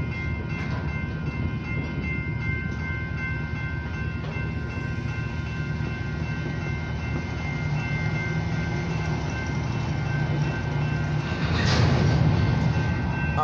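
An OC&T freight train hauled by Alco 75 rumbles past at close range, a steady loud roll of wagons with faint tonal squeals, building slightly louder near the end; no talking.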